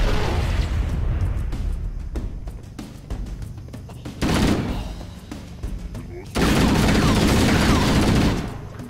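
Plasma grenade blasts and rapid gunfire from a Halo firefight, loud bursts and explosions repeating across the stretch with heavy booms near the middle and end.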